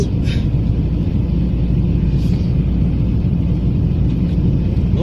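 A car driving on a mountain road in Germany gives a steady, loud low rumble of engine and tyres from inside the cabin, continuous throughout with only faint higher noises above it.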